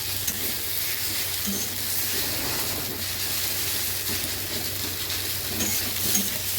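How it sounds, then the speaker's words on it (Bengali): Boiled Maggi noodles added to a pan of fried onions give a continuous moderate sizzle and hiss with faint stirring scrapes, steady and close, with no talking. "এবার সিদ্ধ করে রাখা ম্যাগিটা দিয়ে দিলাম এর মধ্যে"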